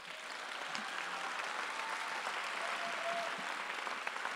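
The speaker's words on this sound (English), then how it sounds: "Please give them a round of applause." Sustained applause from a large audience at a college graduation ceremony, a dense even wash of clapping that holds steady for several seconds at moderate distance.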